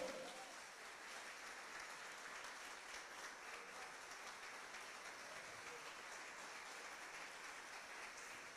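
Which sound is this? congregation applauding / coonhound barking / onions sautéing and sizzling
congregation applauding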